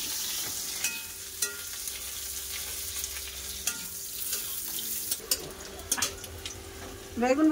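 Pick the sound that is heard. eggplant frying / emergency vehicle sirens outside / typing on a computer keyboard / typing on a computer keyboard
eggplant frying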